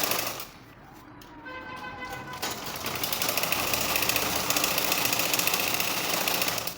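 Home sewing machine stitching a gathering line on a child's baby frock, a fast steady mechanical whirr that starts softly then runs louder and continuous for several seconds.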